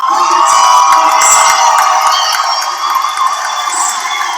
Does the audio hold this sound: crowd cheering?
yes